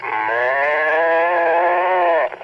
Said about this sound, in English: The Farmer Says, a C&C talking toy by Mattel Preschool. The cow says